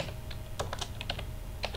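Keys clatter in short bursts on a computer keyboard while a domain name is entered during a Windows server setup, the taps close and crisp over a steady background hum, with no voices.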